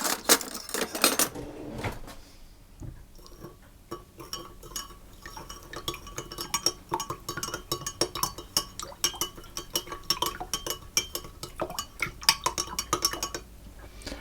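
Yeast mixture for basic Italian bread dough being stirred in a bowl, making a steady run of close, bright clinks and scrapes from utensil against the bowl, with a louder burst of clatter at the very start.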